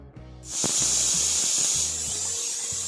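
A pressure cooker on medium gas, cooking pea rice, lets out a loud, continuous steam hiss that starts abruptly and holds steady, with faint low thumps beneath.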